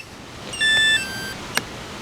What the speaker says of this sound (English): it's still beeping because the transmitter's not on